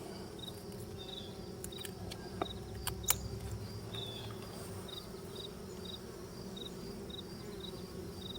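Bees hum in a steady, dense drone inside an open beehive with no brood, a continuous buzz with a few small clicks and taps and no talking.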